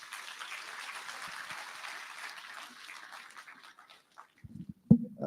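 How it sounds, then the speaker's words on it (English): Scattered audience applause in a hall at a national science week launch, a soft, thin patter of clapping that fades out, followed by a few louder knocks and bumps near the end. "may we bring the Vice Chancellor of Univen, Dr. Bernard Tambeleni, with a warm round of applause"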